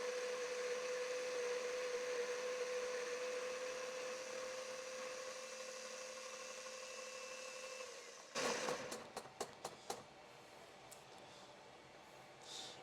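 A Baratza coffee grinder on grind setting 19 whirs with a steady, quiet motor drone for about eight seconds, then stops, leaving a few sharp clicks and knocks of handling nearby.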